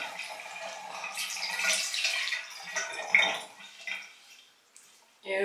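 Water runs from a tap during a face wash with a kale and spinach cleanser, a steady splashing flow that swells and fades, broken by short surges, close by, with no talk.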